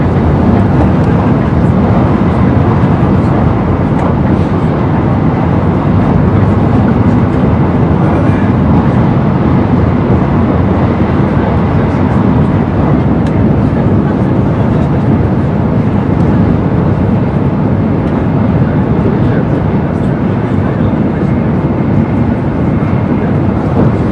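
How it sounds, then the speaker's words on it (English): Steady, loud rumble of a Shinkansen bullet train heard from inside a carriage while riding toward Fuji Hakone Izu National Park, a continuous broadband roar with no break and no speech. "Riding on Shinkansen was part of a day tour to Japan's Fuji Hakone Izu National Park"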